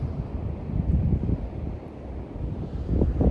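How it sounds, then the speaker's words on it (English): Strong wind gusts on a mountain in the Ouachitas batter the microphone, giving a deep, uneven rumbling roar that surges and eases over a few seconds, with no speech. "it's just too windy and the drone's not gonna like flying up here"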